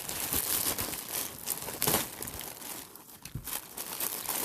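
A package of round nylon bag samples being unboxed, with loud, close crinkling and crumpling of plastic wrap and some tearing, continuous and busy with brief bursts of rustle.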